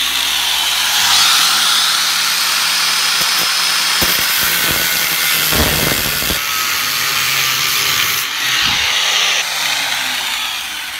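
A power tool cuts a slit into a stripped screw during a bus ceiling and wall tear-down. A steady, loud, high-pitched grinding whine runs throughout with small shifts in pitch and load.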